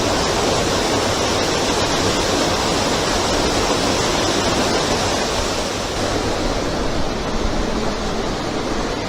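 A steady, powerful rush of falling water fills the narrow La Yecla gorge in Burgos, loud and near, a dense unbroken roar with no speech over it.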